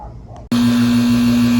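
A vacuum pump switches on abruptly to pull vacuum on a car AC system, settling into a loud, steady mechanical hum with a strong constant drone right after a brief dip.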